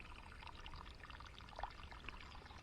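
Steady water leaking and pouring, a continuous wash of flowing sound with a couple of brief splashy accents, fairly close.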